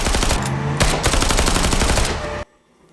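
Dense, loud gunfire from a TV drama fills the clip, with rapid sustained automatic bursts for over two seconds that cut off abruptly into near silence.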